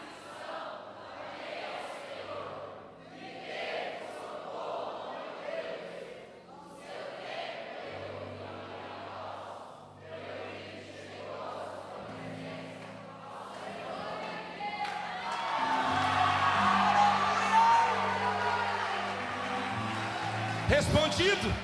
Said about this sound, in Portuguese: É por isso que nós gritamos.